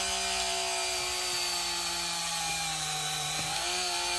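A steady high-pitched whine of a small rotary drill grinding through sea glass, continuous and close, with slight shifts in pitch.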